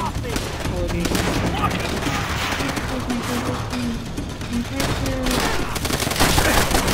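Continuous, loud machine-gun and rifle fusillade from a Call of Duty: World at War campaign battle, rattling without pause as shouted voices come through underneath.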